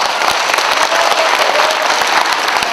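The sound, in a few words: audience applause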